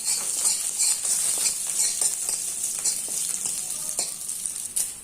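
Food sizzles steadily in a frying pan while idli-style dishes are cooked at home, a continuous close crackling hiss with occasional stirring scrapes and no talking.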